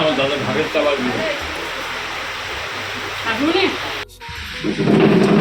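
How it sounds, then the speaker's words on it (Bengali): Heavy rain pours steadily while thunder rumbles loudly, with voices faintly heard talking beneath the downpour. "বৃষ্টি পড়তেছে"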